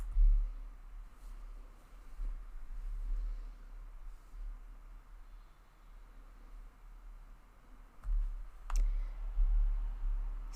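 A computer mouse clicks while a website is edited in a web builder, giving a few sparse, sharp clicks near the end over a quiet, hissy room background.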